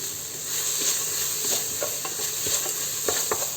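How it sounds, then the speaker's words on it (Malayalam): Turmeric powder being stirred into vegetables frying in a pan for vegetable biryani, with a steady close sizzle and repeated scraping strokes of a spoon against the pan, no talking. "ഇളക്കി യോജിപ്പിക്കാം."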